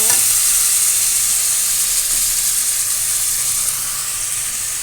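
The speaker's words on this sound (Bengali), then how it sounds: "টমেটোর সাথে পেঁয়াজ কুচিগুলো ভালোভাবে মিক্স করে নেব" Chopped onions and tomatoes with salt frying in a pan for a hilsa fish recipe, a loud continuous sizzle close by, with the hiss of stirring running through it and no talking.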